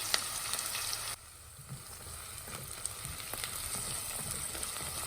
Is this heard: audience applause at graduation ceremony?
no